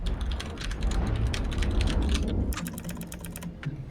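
Keys clack rapidly on a mechanical computer keyboard, a fast, dense patter of clicks up close that thins into sparser taps near the end, with no talking.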